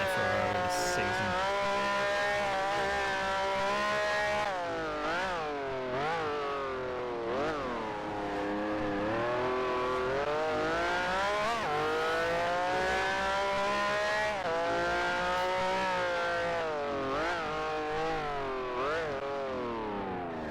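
Racing car engine from a Ferrari in a sim racing league game, closing on a Cooper: a loud, continuous high-pitched engine whine rising and falling steadily through gear changes and revs, with no talk.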